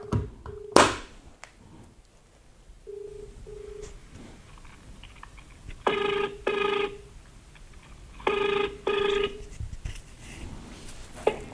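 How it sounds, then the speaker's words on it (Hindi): A telephone rings on an outgoing call: two double-burst rings with a steady ringback tone between them, after a brief click and dial tones, no talking. "अब हम फोन मिलाते हैं।"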